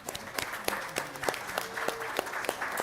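Sparse applause at a school board meeting for an honored elementary student, a thin group of distinct hand claps, fairly distant and uneven, with a few sharper individual claps standing out.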